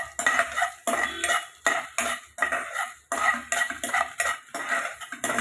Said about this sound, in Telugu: ఆయిల్ వేయకుండా ఫ్రై చేసుకోవాలండి. పౌడర్ లాగా రావాలి.